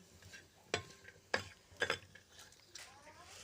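Dry coconut being roasted in a pan until red and stirred: a few quiet, separate scraping strokes with faint crackles between them, sounding soft and close with little else around.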